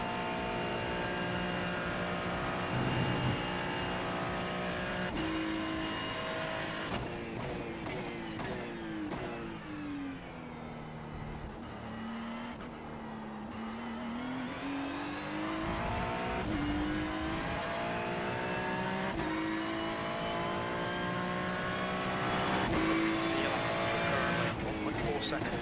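A GT3 race car in iRacing at Daytona Road or Spa roars continuously flat out, engine pitch sweeping down and back up through gear changes, loud and sustained with faint tire noise.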